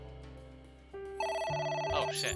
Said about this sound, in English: A phone. Should I pick it up?